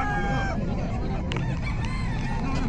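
Chickens and roosters cluck and crow at a pet market in Bocaue during heavy rain. The birds are mixed into a steady, loud wash of downpour, and a few voices are faintly audible.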